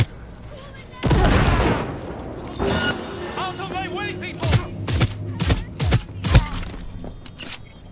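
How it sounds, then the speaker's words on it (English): A grenade explosion and gunfire in the video game Cyberpunk 2077: a loud blast with a rumbling tail, followed by scattered sharp shots, clanks and debris over game ambience. "Oh my god, I blew up their corpses"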